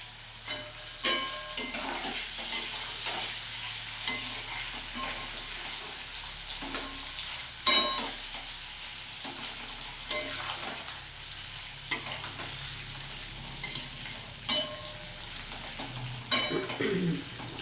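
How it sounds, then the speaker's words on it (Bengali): Paneer pieces fry in oil in a wok with a steady, close sizzle, punctuated by regular sharp spatula scrapes and clicks as they are stirred; no one speaks. "আমার হালকা হালকা পনিরগুলো লাল করে ভেজে নেওয়া হয়ে গেছে"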